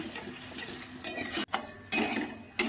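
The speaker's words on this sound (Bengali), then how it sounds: "এবার নুন, হলুদ, আদা বাটা দিয়ে আরেকবার ভালো করে কষে নেব।" A spice paste of coriander, green chilli, salt, turmeric and ginger being stirred and fried for fish khichuri, heard as intermittent close scrapes and clinks of a spoon against the pan over a faint sizzle.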